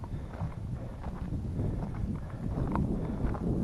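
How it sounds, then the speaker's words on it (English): Wind buffets the microphone outdoors as a steady low rumble with soft gusty swells and a few faint thuds, loud and close throughout. "Oh, there's the wind."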